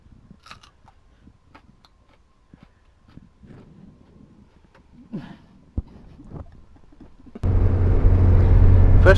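A car drives through November fog. Quiet cabin shuffles and clicks come first, then a loud, steady engine and road rumble starts abruptly near the end and holds to the close.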